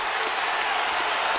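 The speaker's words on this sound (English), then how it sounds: "Crowd rising." Basketball crowd in an arena rising and applauding, a dense wash of clapping and cheering that holds steady and fairly loud for a brief moment.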